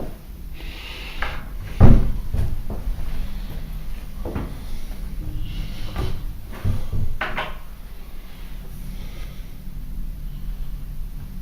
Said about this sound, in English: Now I'm going to open the door. I'll try to open the door if I can find the handle.